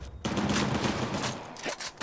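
Gunfire erupts in a firefight in Uncharted: The Lost Legacy, loud overlapping shotgun blasts and bursts crowding the whole stretch with only a brief lull near the start.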